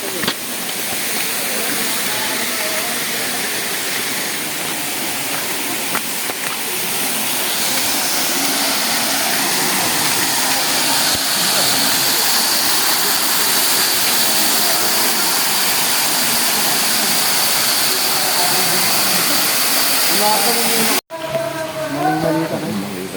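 Constant loud roar of Daranak Falls, a waterfall cascading at close range, with water rushing steadily throughout and a brief cut near the end.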